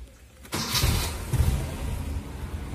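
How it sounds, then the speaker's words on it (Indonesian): A 1800cc carbureted Toyota Kijang engine cranks briefly and catches without any throttle, then settles into a steady, close idle that continues alone after the start. "kita coba starter. Starter tanpa injak pedal gas ya."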